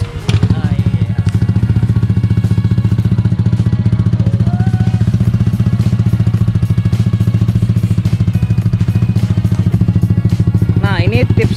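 Motorcycle engine from a collection including a ZX636, Aerox 200, Ruckus and Ninja 150RR, starting up and running loud and close with a steady rhythmic idle throughout.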